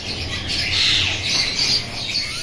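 White Java sparrows chirp and squawk in short bursts while being handled, a steady close twittering texture with no talk over it.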